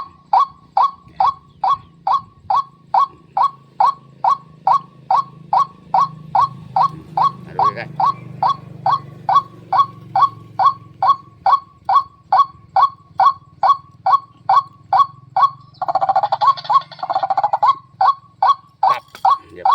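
An electronic bird caller plays a rapid series of loud, evenly spaced honking goose calls that repeats for the whole stretch, with a brief burst of harsher calls near the end.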